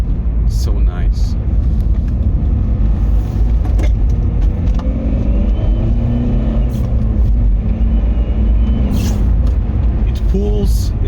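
High-mileage tuned BMW E46 driving on a back road, a loud continuous engine and road drone with a steady low rumble and some brief higher noises.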